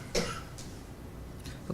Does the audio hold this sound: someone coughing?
yes